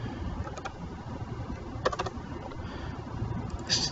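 Faint, sparse keystrokes on a computer keyboard, a few soft clicks scattered over a quiet, low room hum.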